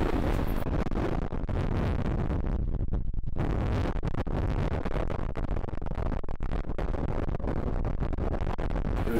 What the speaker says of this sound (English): We started to have a few days every week where the wind really got up.